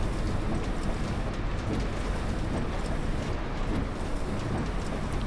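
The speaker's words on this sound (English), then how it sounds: "the rain bouncing off the roof of the bus" In The Bus driving game, rain drums on the bus roof as a dense, even patter and hiss that holds steady throughout, with no voices over it.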